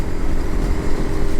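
Motorcycle ridden along a forest road in India, its engine a steady, fairly loud drone with rushing wind.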